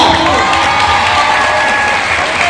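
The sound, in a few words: audience applause at a religious gathering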